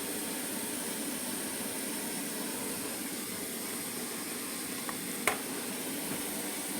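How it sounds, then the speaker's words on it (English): A kitchen tap runs steadily for washing dishes, a constant faint hiss with one brief clink partway through. "What you all hear is my water running."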